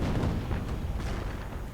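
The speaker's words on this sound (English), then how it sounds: "But artillery continuing to range in." Artillery fire in a World War II strategy game: deep rumbling blasts of distant shelling rolling together in a steady low roar, fairly faint, with no voices.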